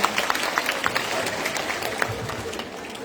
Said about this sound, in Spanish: Un aplauso para todos ustedes por esta labor y por esta actividad de desarrollo